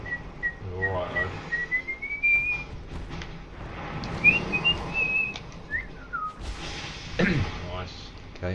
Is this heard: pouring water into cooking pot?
no